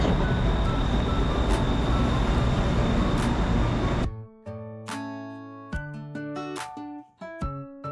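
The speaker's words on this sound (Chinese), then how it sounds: "回来又有地铁来了" A Bangkok subway train pulls into a station with a loud, steady rumble for about four seconds, then the noise cuts away and a series of clear tonal chimes rings out alone.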